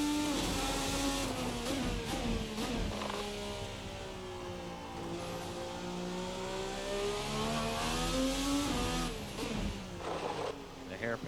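A Formula race car engine in the Assetto Corsa racing game, RSS Formula Americas 2020 or Formula RSS Supreme, revs and falls under braking, its harmonic whine sweeping down and back up, with a commentator talking over it throughout.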